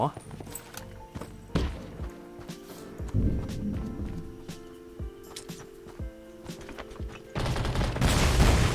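Gunfire and sniper shots sound in a fight inside a house in the survival shooter game Undawn. Sharp, loud shots crack repeatedly in bursts, with a heavier volley near the end, while a voice talks throughout.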